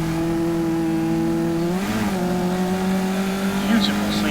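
Caterham Roadsport race cars at Cadwell Park circuit, a steady loud engine drone with rising and falling pitch as cars climb toward Hall Bend, heard continuously under commentary.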